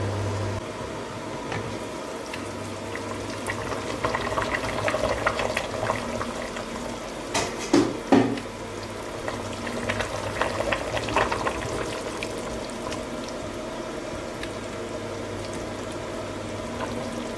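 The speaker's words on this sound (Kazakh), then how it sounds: "шамамен 15 минуттай баяу отта тағы да қайнатамыз" Lecho vegetable salad simmering on low heat in a covered pot, a soft steady bubbling and sizzle with a few louder clinks and stirring knocks partway through.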